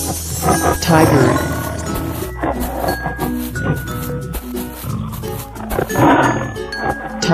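A tiger's roar rumbles low and gravelly over a dense musical backing, swelling repeatedly through the passage at moderate loudness rather than standing alone.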